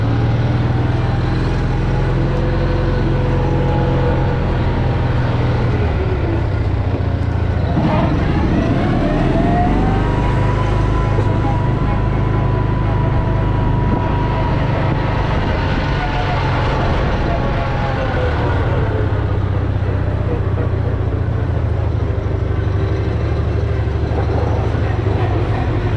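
An M274 Mule military utility vehicle with sticking, dragging brakes drives and coasts, its engine droning steadily at close range with a rising rev partway through, while someone talks over it.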